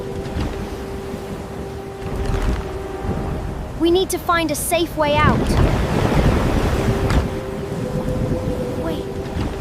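Strong flood water rushes steadily outside a building, a loud continuous wash of surf-like noise with gusts, running beneath a person speaking.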